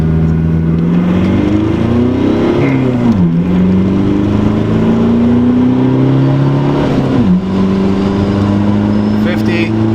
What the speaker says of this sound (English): So we'll do a little bit of pull. Right now we're in first gear at 15.